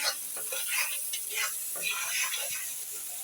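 Spices frying in a pan for a Bengali afternoon snack make a continuous bright sizzle with soft stirring scrapes, and a voice murmurs faintly in the background.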